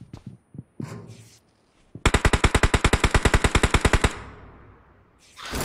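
Rapid automatic gunfire in a mobile battle-royale shooter, a fast evenly spaced burst of about twenty shots lasting two seconds, preceded by a few scattered single shots and followed by quieter game ambience.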